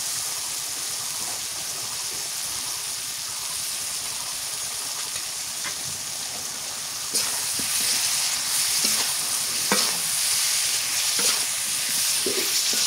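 Tomato with bay leaf and garlic paste sautéing in a pan for a katla fish curry, a steady hissing sizzle that grows louder partway through, with occasional spatula scrapes and stirs close by.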